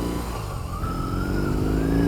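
A BMW R18 cruiser motorcycle pulls away in first gear, its big engine giving a loud, close, throbbing rumble with a rising pitch as it gathers speed.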